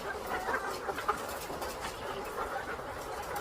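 Chickens cluck in a poultry house at an egg farm where chicks are sold, a busy, soft murmur of many birds with scattered clucks and chirps throughout.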